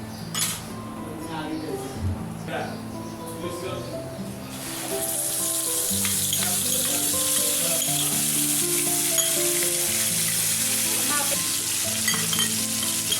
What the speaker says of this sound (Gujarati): એ આપણી પેસ્ટ આપણે બરાબર હલાવીને સાતળવા દઈશું